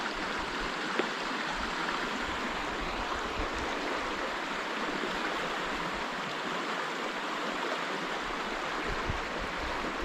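The Hoh River flows through the Olympic National Park rain forest as a steady, close rush of water that holds an even level throughout, with no voices.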